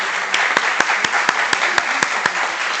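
An audience at a law conference on equality and anti-discrimination applauds a speaker, a steady wash of clapping with a few sharper individual claps standing out at fairly regular intervals, close and uninterrupted.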